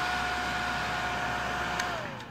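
A battery-powered jet fan running on an 18650 lithium cell blows air in a steady, loud, close whoosh with a constant whine, then winds down as it is switched off near the end.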